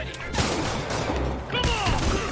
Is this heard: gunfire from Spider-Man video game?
yes